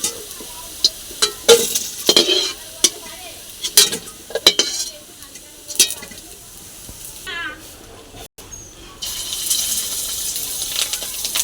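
Fish eggs fry in sizzling, crackling oil in a pan, broken by scraping and clinking of a utensil against metal, with a louder hiss toward the end.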